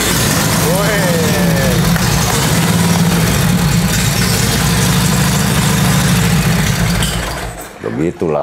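A 750 cc motorcycle engine idles after starting, likened to a Harley Sportster, with a loud, steady, throbbing low rumble close by that fades out near the end while people chat over it.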